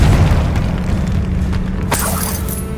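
Confringo fire spell explosion in the video game Hogwarts Legacy: a loud, full booming blast with a sharp burst near the end, heavy low rumble throughout and no talk.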